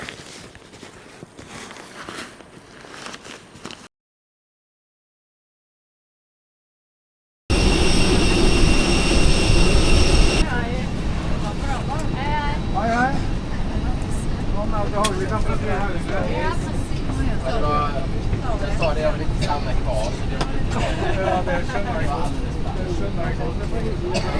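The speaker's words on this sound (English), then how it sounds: "Inside the aircraft." Loud, steady roar of aircraft cabin noise during flight fills the later part after a short break, with a person talking over the constant drone.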